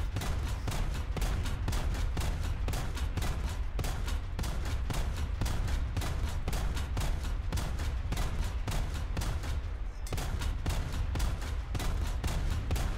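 Dense, rapid gunfire from a tank in War Thunder, a continuous stream of closely spaced shots running throughout at a fairly low level, with no talking.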